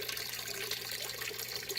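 Water flowing steadily through the drain of a DIY aquaponic fish tank system, a continuous close gurgling rush with no talking.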